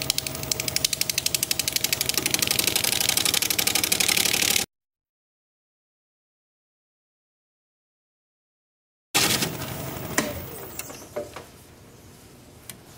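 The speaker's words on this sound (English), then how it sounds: "So I'm going to grab a parting tool and my mask and face shield and cut about an inch off of this and create a new tenon down here to fit in the chuck." A wood lathe spins a redwood vase at about 700 RPM while a parting tool cuts into it, a loud rapid rhythmic chatter that stops, then a scraping cut with sharp ticks resumes after a silent gap.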